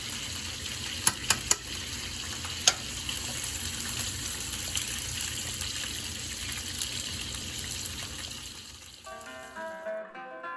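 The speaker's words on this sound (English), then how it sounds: "While our cacciatore is simmering up" Chicken cacciatore simmering in a pan, a soft continuous bubbling and light sizzle with a few sharp clicks near the start, fading out near the end as a brief musical tone enters.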